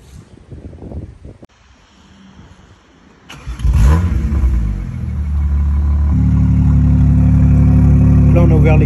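A rare French sports car, one of 100 in France, fires up after a brief voice and settles into a loud, deep rumbling idle with a rising rev, close by and dominating the scene.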